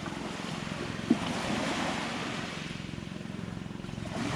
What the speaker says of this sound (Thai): ได้ยินเสียงคลื่นไหม